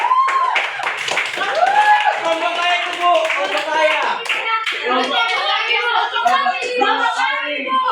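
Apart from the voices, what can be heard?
class clapping for Poppy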